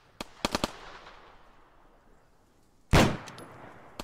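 Gunfire in the military video game Arma 3: a sharp single shot, then a quick burst of three close cracks, and after a quiet pause one louder, booming report that rings out and fades, with no talk over it.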